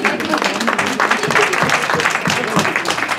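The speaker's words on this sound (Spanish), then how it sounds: "Un aplauso." Applause from a congregation at a Virgen de Guadalupe feast day celebration, a steady wash of clapping hands filling the room for a few seconds without a break.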